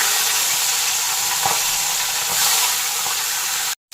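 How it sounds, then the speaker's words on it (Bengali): Hilsa fish heads frying in hot mustard oil in a kadai, giving a steady close sizzle and spatter that runs almost unbroken, with a brief cutout near the end. "তেল গরম হয়ে গেছে, মাছের মাথাগুলোকে দিয়ে দেবো।"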